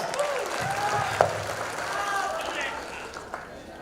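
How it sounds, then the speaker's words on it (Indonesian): An audience at a business seminar claps in a steady, moderate round of applause with some crowd murmur, fairly distant and continuous throughout. "Beri aplaus."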